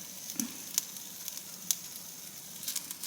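Turkey sausage deep frying in olive oil gives a soft, steady sizzle with occasional sharp pops and crackles, fairly quiet and close, with no voices.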